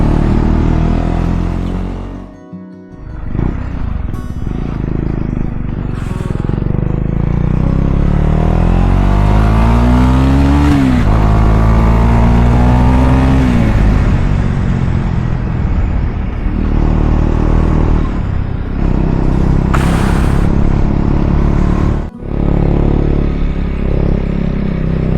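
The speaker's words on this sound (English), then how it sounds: "God, it feels nice to ride a motorcycle after some good time." KTM 250 motorcycle ridden after a cold start in -5 °C weather after sitting 120 days, its engine revving up and down loud and close with rising whines between gear changes, then a brief cut before pulling on.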